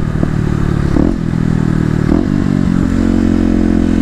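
A Kawasaki KLX250 motorcycle engine pulls under throttle, a loud, gritty, continuous roar with slight rises and dips in revs, close up and without talk.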